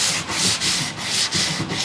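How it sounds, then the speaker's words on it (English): A sanding block with sandpaper rubs back and forth over welded steel panel work on a 1940 Ford-inspired car, in loud, close, rhythmic strokes of about a third of a second each, with no talk. "we can pass a piece of sandpaper over that"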